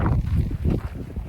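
Wind gusts across a microphone on the Pacific Crest Trail near Tehachapi in the evening, a low, close rumbling buffet that swells and fades in uneven pulses.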